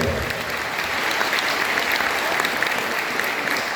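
Strong, steady applause from a gathered audience at a council of elders event in Caxhuacan, Puebla, a dense even wash of many hands clapping with no talk.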